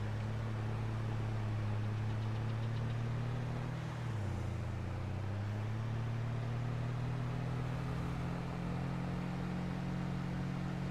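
A truck engine in Farming Simulator 22 holds a steady droning hum at idle, with a brief dip in pitch midway before settling again, continuous and unaccompanied by speech.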